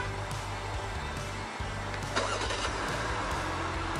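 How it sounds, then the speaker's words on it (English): A 2016 Jeep Grand Cherokee 75th Anniversary V6 turns over on remote auto start, its cranking catch settling into a steady low idle rumble, heard up close with no talking. "Nice little auto start for you guys."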